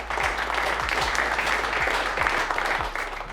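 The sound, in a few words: audience applause at meetup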